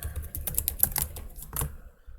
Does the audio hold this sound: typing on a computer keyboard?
yes